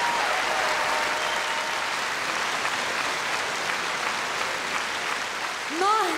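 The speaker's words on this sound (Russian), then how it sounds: "Ну что ж, друзья, наградите их овациями." A large audience gives a sustained ovation at the New Wave 2014 song contest: dense, steady applause fills the hall throughout, with a brief tonal flourish rising near the end.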